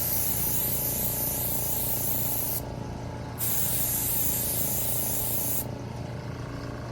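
A spray gun applies a wet coat of paint in a paint chip repair, giving close, loud hissing bursts that stop briefly between passes.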